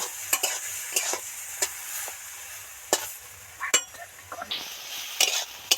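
Soybean chunks seasoned with salt and turmeric sizzle in a pan while a utensil stirs them in repeated sharp scraping strokes, with a steady frying hiss underneath and no talk.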